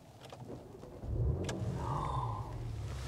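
A Porsche Macan GTS engine rises from a quiet idle into a deep, throaty rev, the low rumble swelling and holding for a couple of seconds with no talking over it.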